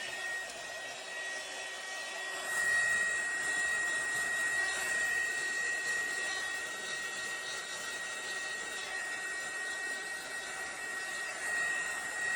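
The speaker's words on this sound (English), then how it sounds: "This is just my heat gun. I'm gonna let it run for a few seconds" A heat gun starts up and blows over bubbly epoxy resin in molds, a steady close whooshing hiss with a thin high whine that runs without a break for about ten seconds.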